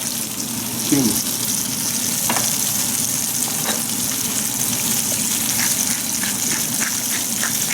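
Salmon fillet seasoned with sugar, salt and pepper fries in a pan, giving a steady, close sizzle throughout with a few faint scrapes and a brief clatter near the start.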